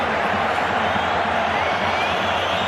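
A football stadium crowd roars in a steady, dense wash of cheering at a Real Madrid versus Osasuna match, with a commentator's voice faintly underneath.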